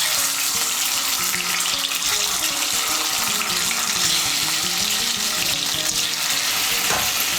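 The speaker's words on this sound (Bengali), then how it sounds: "এই তেলের মধ্যে আলুগুলো ভেজে নেব।" Boiled potatoes fry in hot oil with a loud, dense, unbroken crackle and sizzle throughout, heard close up without any speech.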